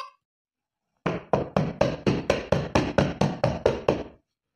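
Rapid banging on a door with a stick: about a dozen loud, evenly spaced, close strikes in a quick steady burst after a second of silence, with no voices.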